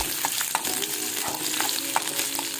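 Six or seven small peeled onions fry in hot coconut oil, giving a close, steady sizzle and crackle with scattered pops and a few stirring clinks.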